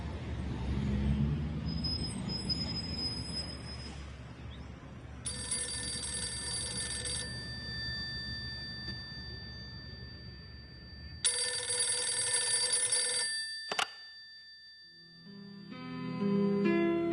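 A telephone rings in repeated long electronic bursts separated by pauses, loud and close, over a low rumble of background noise like passing traffic.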